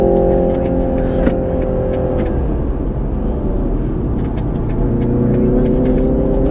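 A 2019 BMW 330i M Sport G20 in sports mode accelerates hard while driving in traffic, its engine note droning steadily and rising in pitch under continuous cabin and road noise, loud and close throughout.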